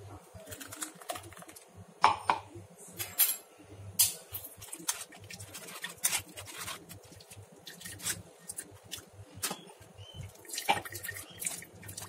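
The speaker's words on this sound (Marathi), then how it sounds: "याच्यात मी आता अजून थोडं पाणी घालणार आणि हे गाळून घेणार" Water and ground coconut paste for Konkani-style solkadhi are strained into a vessel. Irregular drips, splashes and light clinks sound close up, with a low hum underneath and no speech.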